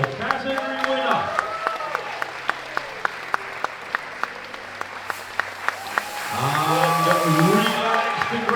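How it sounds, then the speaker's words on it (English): An audience applauds a category winner at a live event, steady dense clapping under a speaking voice, swelling louder toward the end. "audience members, a round of applause for your category winner"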